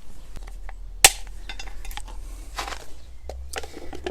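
A single sharp snap as a scored plastic tooth breaks off a Jouplast 80–140 tile pedestal, close and loud, followed by faint handling and tapping noises.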